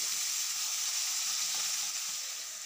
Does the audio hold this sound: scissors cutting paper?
no